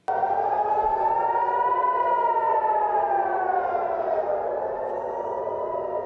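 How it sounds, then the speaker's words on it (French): Air raid sirens wailing across southern Israel, a single loud civil defense tone rising and falling slowly in a long sustained wail, heard alone without talk. "Les sirènes hurlent dans le sud d'Israël."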